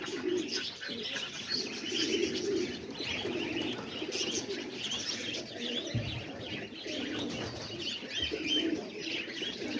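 Homing pigeons, including a young roller, coo steadily from close by with soft chirps and murmurs layered over one another, and a few brief wing flaps break in now and then.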